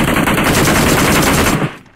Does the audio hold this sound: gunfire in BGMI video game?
yes